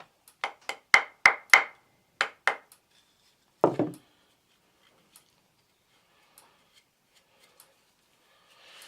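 Small bog oak eye tapped into a carved wooden bird made from found Welsh wood: a quick run of about ten sharp, close wooden taps in two bursts, then a single heavier knock, followed by near silence.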